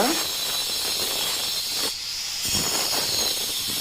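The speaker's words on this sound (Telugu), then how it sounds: "చూడండి, సైడ్ కటింగ్ కూడా కోస్తున్నాడు." A wall cutting machine grinds a groove into a wall with a loud, harsh, steady high whine and hiss, dipping briefly in the middle before resuming at full strength.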